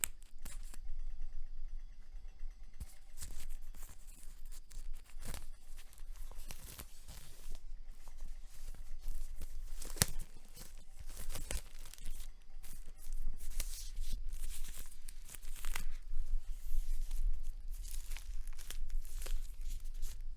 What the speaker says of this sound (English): we're gonna open it with these real rusty pair of scissors